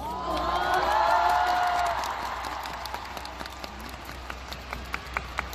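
A large stadium crowd at a concert in Seoul Olympic Stadium cheers and applauds, swelling at first and then settling into scattered claps.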